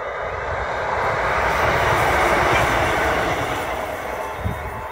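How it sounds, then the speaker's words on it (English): A train rumbles steadily past at close range in County Durham, a loud continuous roar with heavy low-end rumble swelling and easing over five seconds, with no voices. "Here comes the train."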